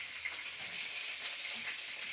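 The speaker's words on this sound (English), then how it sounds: "The sound of fried food." Food frying in hot oil in a pan, heard as a soft steady crackling hiss with tiny pops throughout, fairly quiet and without voices.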